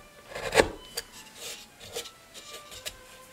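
A tool rasps in short strokes against the wood of a quilted maple mandolin during beveling, one strong scrape followed by several fainter, irregular rubs, close and alone without talk.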